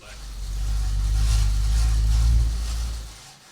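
Used air bike exercise machine running loudly, a heavy low whooshing drone that swells and then winds down over a few seconds, with a voice talking over it.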